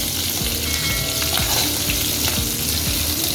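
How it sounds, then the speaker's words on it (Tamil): Green chillies and curry leaves fry in hot oil in a pan, giving a dense, continuous sizzle up close, broken by the soft scrape of stirring. "பச்சை மிளகா கருவேப்பிலை பொரிக்கிட்டு"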